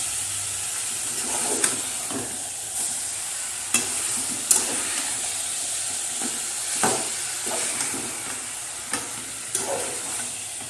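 Masala sautéed in a pan, a continuous hissing fry broken by about a dozen clicking spatula stirs at an uneven pace, close and fairly loud, with no speech.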